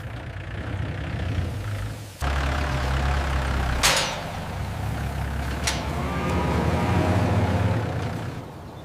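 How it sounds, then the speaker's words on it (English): Motor running on farm harvesting equipment with a tractor, a steady low engine drone throughout, a sudden louder shift about two seconds in, and a couple of brief sharp hissing bursts over the idle. "The motor is running smoothly."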